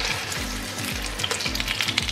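Homemade minced-meat patties sizzle loudly and steadily in a frying pan, with occasional scraping sounds and no talking.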